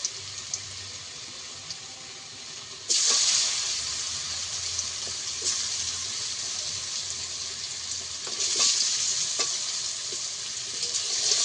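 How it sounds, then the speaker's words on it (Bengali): Boiled taro frying in hilsa fish oil: a quiet kitchen background jumps to a loud, steady sizzle about three seconds in, which continues to the end with brief surges and occasional light clicks. "এর মধ্যেই আমি প্রথমে কচুটাকে ভেজে নেব। সেদ্ধ করে রাখা কচুটাকে ভেজে নেব।"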